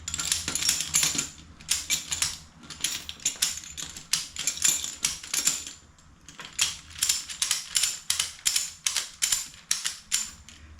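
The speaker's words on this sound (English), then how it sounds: "So I'm going to ratchet this up." A ratchet tie-down strap for securing a car on a trailer is cranked tight in quick clattering runs of metallic clicks, several bursts separated by short pauses, close and crisp with no voices.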